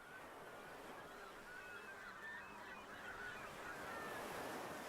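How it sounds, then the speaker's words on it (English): Gulls squabbling over seal afterbirth on a California ocean shore, with repeated harsh calls and squawks over a steady roar of surf and waves. "seagulls fight over the afterbirth of the dead seal pup"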